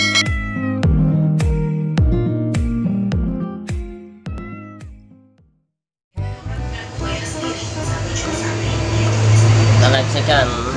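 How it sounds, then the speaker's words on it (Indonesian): A pet cat meows in a quick string of short calls, then falls briefly silent before a louder, denser burst of yowling and background noise takes over; the sound is close and clear. "kucing lagi ingin memakan sesuatu"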